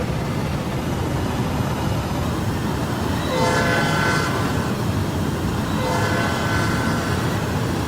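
Tri-Rail commuter train in a Roblox sandbox game rumbling steadily past a railroad crossing, with two long horn blasts sounding over the continuous loud rolling noise.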